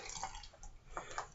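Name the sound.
adding water to soap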